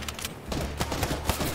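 Video game gunfire comes in a quick flurry of short, clustered shots, moderately loud and sharp, over a brief stretch of play.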